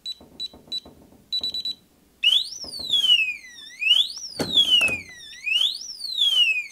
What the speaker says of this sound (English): Oh, I set off the alarm.